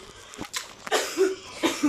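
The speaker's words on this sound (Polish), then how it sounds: "I taki suchy kaszel." A few short, dry coughs come in quick separate bursts, close and fairly sharp, with brief pauses between them.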